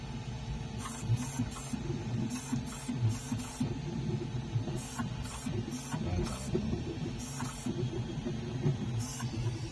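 FLSUN SR 3D printer printing at high speed, a steady mechanical whirring and buzzing with quick motor chirps that come and go throughout, moderately close and with no talk.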